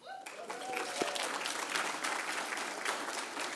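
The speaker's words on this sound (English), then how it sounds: "one last round of applause just for all the sponsors that we have here today" Audience applause for the sponsors at a legal aid charity breakfast, swelling quickly from a quiet start into steady, full clapping from a large crowd, with a faint voice briefly audible at the outset.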